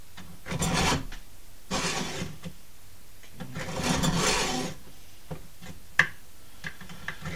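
Hand saw cutting through a piece of bone for a fish hook, braced against wood: several bursts of rough rasping strokes with pauses between, close and fairly loud, ending in a few small knocks.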